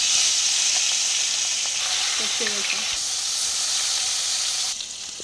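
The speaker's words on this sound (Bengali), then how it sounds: "এবারে আমি তেলে দিয়ে দেবো মাছ" Fish rubbed with salt and turmeric sizzling in hot oil in a pan, a loud, steady hiss with a few crackles and spits near the middle, then dropping off sharply near the end.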